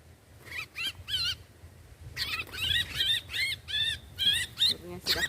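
A captured adult sooty-headed bulbul (kutilang) in a rubber plantation gives repeated bright, warbling chirps in short bursts: three quick calls, a pause, then a longer run of calls close by over faint background noise.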